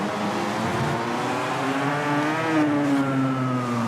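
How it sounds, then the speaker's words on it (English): A 250cc racing motorcycle engine at Jerez in the VR46 game, a steady high-revving whine that climbs and shifts pitch throughout. "we are back in Jerez on a 250cc bike"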